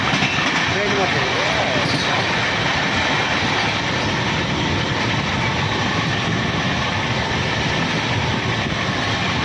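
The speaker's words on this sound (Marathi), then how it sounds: "ट्रेनमध्ये." A passenger train running on rails gives a loud, continuous rumble with rhythmic clickety-clack from inside a carriage, steady throughout, with faint voices under the noise.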